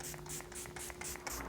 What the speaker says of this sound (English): the setting spray.